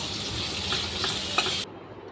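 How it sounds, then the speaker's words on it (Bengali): Chopped onions frying in soybean oil as they are stirred, a close, even sizzle with faint scraping ticks, stopping abruptly near the end. "দিয়ে ভালো করে এখন নাড়াচাড়া করে নিচ্ছে পেঁয়াজটা"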